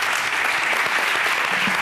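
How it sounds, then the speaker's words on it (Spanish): A television studio audience claps, a dense, steady burst of applause at moderate loudness that continues from start to finish with no talking over it. "voy a pedir un aplauso para él"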